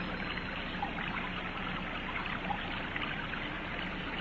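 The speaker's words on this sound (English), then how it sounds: "A river. I hear water rippling." River water rippling and trickling in a soft, steady, continuous flow, faint and close, with no other sounds over it.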